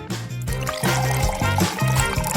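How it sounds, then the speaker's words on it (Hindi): Cola pours into a frying pan in a steady gurgling trickle with a few splashy surges, loud and close, with no one speaking. "कोला के लिए एक ही तरीका है, फ्राइंग पैन में डालना"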